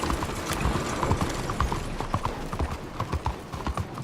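Horse hooves clip-clop at a steady trot in the video game Red Dead Redemption 2, a brisk even rhythm of close hoofbeats over a dense background.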